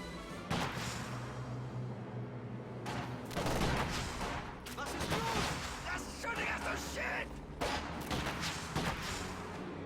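Dense machine gun and rifle fire in a World War II strategy video game battle, sharp bursts and cracks overlapping with explosions in a continuous loud barrage, with a voice talking over the action.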